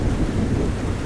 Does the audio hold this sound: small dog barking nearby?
no